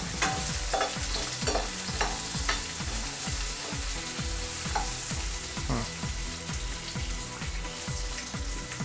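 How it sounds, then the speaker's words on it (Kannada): Onions fry loudly in a pan for a dhaba-style paneer masala, a dense continuous sizzle with a steady rhythmic scraping of stirring running throughout. "ಈರುಳ್ಳಿ ಹಾಕೊಂಡು ಒಂದು ಸ್ವಲ್ಪ ತಿರುಗಿಸೋಣ."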